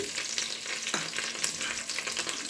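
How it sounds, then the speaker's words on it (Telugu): Bay leaves, cumin, shahjeera and cashews fry in hot oil with a soft, continuous sizzle and crackle, fairly quiet and close, with no voices. "ఇవన్నీ వేసుకొని కొంచెం వేగనివ్వాలి"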